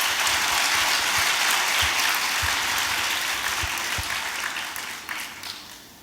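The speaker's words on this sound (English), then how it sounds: "having a huge round of applause for our dear panelists" An audience claps for the panelists at a talk event, a dense sustained wash of applause with a few sharp hand claps near the front that slowly fades toward the end.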